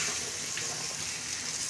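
Meat frying in a pan with ginger and garlic, a steady hiss and sizzle close by, continuous and fairly loud with no talking.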